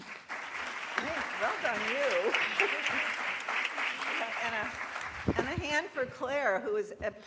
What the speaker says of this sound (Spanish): Un aplauso para Claire